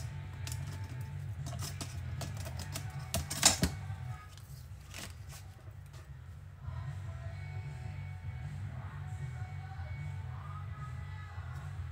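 Paper being trimmed with scissors, giving a few short crisp snips and rustles near the start, then quiet handling of paper over a steady low hum.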